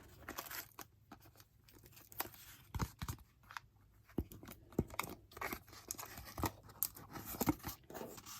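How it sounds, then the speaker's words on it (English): Scissors snip through a rolled sheet of mold-making material, trimming off an uneven edge; a series of close, crisp cuts with papery crinkling between them, and no voices. "I'm going to trim off right here though."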